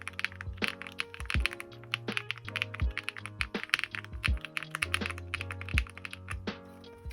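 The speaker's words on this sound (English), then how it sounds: "the keyboard sounds amazing." Rapid typing on an Ajazz AK820 Pro 75% mechanical keyboard, a dense, steady run of close, crisp keystrokes with sharp individual clacks and occasional heavier thocks, heard alone without talk.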